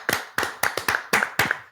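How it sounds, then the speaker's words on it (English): A crowd claps along in unison at a live event in Dallas, six sharp, evenly spaced group claps in a steady rhythm, loud and close with no talking. "I need y'all to clap with me right now."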